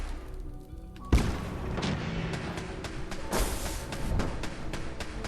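Gunfire from an Institute scientist in Fallout 4, a sharp loud crack followed by scattered booming shots and thuds spread over several seconds, mid-distance.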